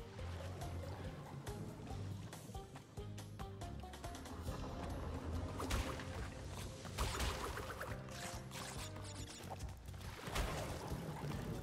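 Water rising in the Crash Bandicoot 3 video game, a busy gurgling, splashing game soundscape with pouring and trickling water effects mixed with clattering game sounds, fairly steady throughout.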